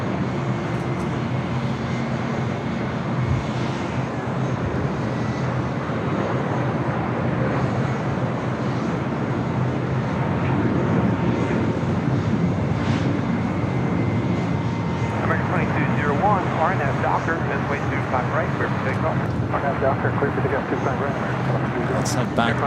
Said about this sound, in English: That was Sun Country Airlines flight 8709 coming up from Houston.